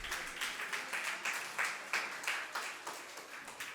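Audience applause at an unveiling during a Jain religious gathering, a dense burst of many hands clapping in a loose rhythmic pulse, fairly near and without speech.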